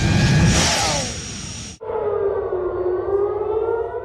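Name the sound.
air raid sirens in Tel Aviv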